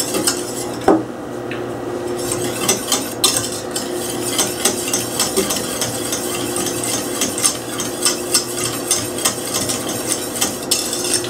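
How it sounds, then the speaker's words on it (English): Metal whisk stirring a thickening béchamel of flour roux and milk in a pan, a steady scraping and clinking with occasional sharper knocks against the pan, continuous and close with no talk. "You want to make sure you stir it consistently, or you know that roux may just stay in the bottom and start to burn on you"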